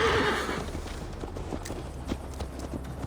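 A horse whinnies loudly at the start, then hooves clip-clop at a steady trot in the Viking-era video game Assassin's Creed Valhalla.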